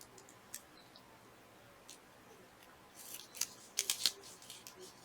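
Scissors cutting washi tape for a craft project, a few soft snips and small clicks spaced out and then a quick cluster of sharp closer cuts near the end, quiet with no voices.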